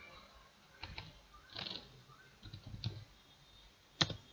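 Sparse, quiet keystrokes tap on a computer keyboard while a terminal command for a Linux system is typed, a few scattered clicks with gaps between them and one sharper key press near the end.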